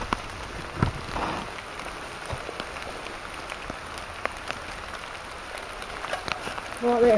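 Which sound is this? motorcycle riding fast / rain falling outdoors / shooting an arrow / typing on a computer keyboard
rain falling outdoors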